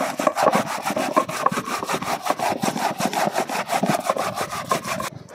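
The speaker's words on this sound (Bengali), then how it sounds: "এই জন্য আমি এই চালুনের সাহায্যে ঘষে নেব।" Palmyra palm fruit pulp is rubbed through a sieve by hand, making a rapid, rhythmic scraping and rasping. The even back-and-forth strokes repeat close to the microphone for several seconds, with no talking.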